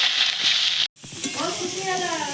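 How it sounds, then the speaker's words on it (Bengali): Potatoes dropped into hot oil in a pan, hissing steadily and then breaking into a bright, crackling sizzle after a brief cut, loud and close with no talk. "এবার আলুগুলো দিয়ে দেবো।"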